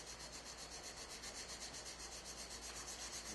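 Shapton and Chosera sharpening stones being lapped with water on a Wicked Edge system, a faint steady rhythmic rubbing and grinding that pulses evenly back and forth.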